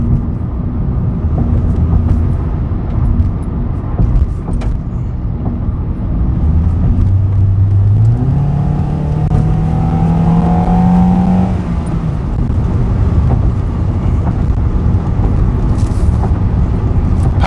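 A 2010 Honda Accord LX sedan accelerates from inside the cabin, engine note droning low and then rising steadily in pitch through the gears before settling into a steady loud cruise hum.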